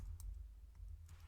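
A few soft, quick keystrokes on a computer keyboard as a project name is entered, faint and isolated in a quiet room with a low steady hum beneath.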